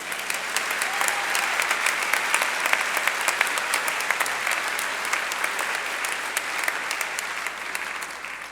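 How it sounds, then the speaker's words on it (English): At a December recognition ceremony at Clarkson University, the audience breaks into sustained applause, a thick, continuous roar of many hands clapping at a steady level throughout. "Why doesn't everybody just applaud for everybody?"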